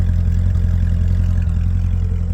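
Steady, close engine rumble from a 2006 Chevrolet Corvette Z06, holding an even, throaty idle with light clatter and no voices over it.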